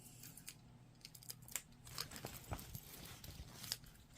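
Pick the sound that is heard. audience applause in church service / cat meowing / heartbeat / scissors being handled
scissors being handled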